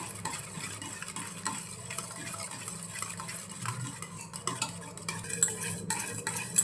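Raw mango pulp being stirred in a pot for Malvani-style kairi panna, a quiet run of scraping and clinking strokes against the vessel with a soft sizzle beneath, growing slightly louder toward the end.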